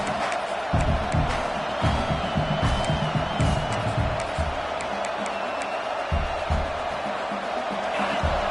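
A huge football stadium crowd roars and cheers continuously to help the home defense, a dense wall of noise with whistles and yells rising and falling.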